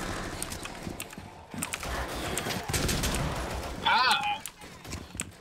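Zombie-mode gunfire in Rainbow Six Siege, with scattered shots and quick bursts under game noise, plus a short bright chirping near the end, while players talk over it.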